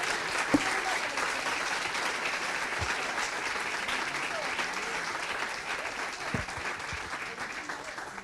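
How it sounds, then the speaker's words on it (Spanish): An audience applauds the presenters at the close of a day of talks at a meat-industry seminar, a steady sustained clapping at moderate loudness with a few sharper individual claps standing out. "les pido un aplauso para ellos"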